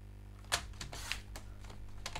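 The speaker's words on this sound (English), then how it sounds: "If we go for a trimmer, it's a nice straight line here." A paper trimmer slices through heavily patterned craft paper, giving a few sharp clicks and a brief sliding cut, close and quiet with no talk.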